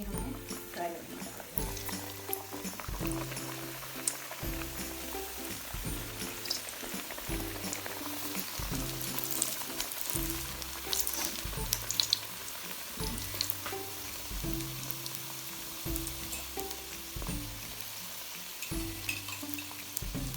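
Keema samosas fry in hot oil with a continuous crackling sizzle that runs the whole time, fairly faint beneath a looping music track.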